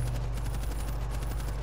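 Machine gun firing at zombies in a video game: a dense, continuous rattle of rapid shots over a heavy low rumble, loud and unbroken.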